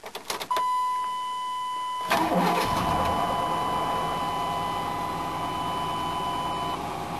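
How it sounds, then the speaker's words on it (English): A crash-damaged truck with 241,000 miles and a bent radiator cranks and fires up, then settles into a steady, close running drone, with a sustained electronic chime tone over the start. "Motor is still fine. Still starts up."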